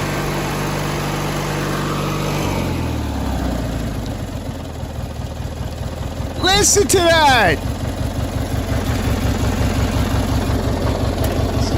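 A Tecumseh-powered Craftsman lawn tractor engine idles steadily with an even, rapid low thump close by, while people talk over it and briefly exclaim.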